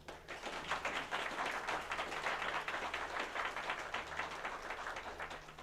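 A room full of people claps steadily for the finalists at a tournament, a moderate, even patter of applause with no one speaking over it.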